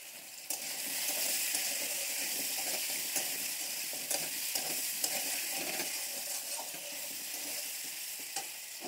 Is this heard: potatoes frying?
yes